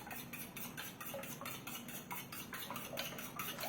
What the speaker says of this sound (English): You have to beat the eggs this way.